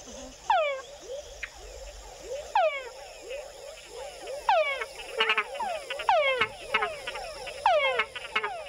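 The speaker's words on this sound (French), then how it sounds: "Ces coassements ont un rôle essentiel pour organiser les accouplements." Frogs croaking in an emerald rainforest, repeated rising chirp-like calls from several animals overlapping in a rapid chorus, fairly near and clear, with someone speaking quietly beneath.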